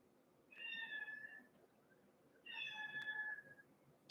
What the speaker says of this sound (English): Can you hear him meowing?